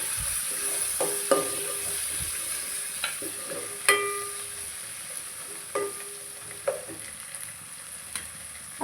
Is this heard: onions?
yes